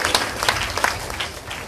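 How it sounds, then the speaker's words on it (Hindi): Audience applause at a Bhagwat Saptah gathering in Noida for the collection team, dense scattered clapping that stays steady and moderately loud through the short stretch. "सभी लोगों के लिए जोरदार ताली बजाइए"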